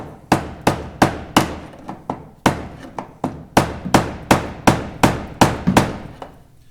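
Sharp metallic hammer strikes on a Ford Ranger fuel pump locking ring ring out one after another, about fifteen blows in a steady, slightly uneven rhythm, loud and close with no talking.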